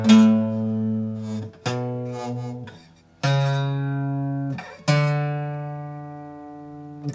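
Requinto guitar strumming slow chords from a song: four sustained chords, each ringing and fading before the next, played close and clear with no voices.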